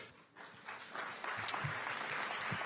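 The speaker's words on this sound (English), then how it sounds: "A huge round of applause, not just for the last, but the first, the middle, all of the great commitments you heard." Distant, faint applause from the audience at a UN youth climate summit, rising after a quiet start and holding steady for a couple of seconds.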